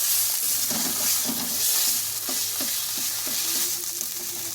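A pointed gourd and prawn curry sautés over a medium flame, giving a constant sizzling hiss. Soft scraping strokes of stirring repeat at a steady pace underneath.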